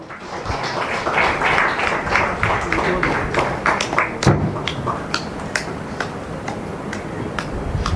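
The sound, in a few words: loud applause from audience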